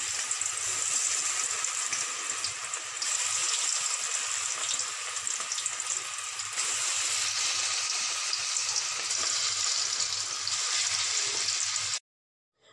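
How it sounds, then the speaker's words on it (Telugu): Chicken kebab pieces dropped one by one into hot oil on medium heat, giving a loud, continuous close sizzle and crackle for about twelve seconds before it cuts off abruptly. "ఆయిల్ హీట్ అయిన తర్వాత చికెన్ పీసెస్ అన్నీ ఒక్కొక్కటిగా ఇలా వేయాలి"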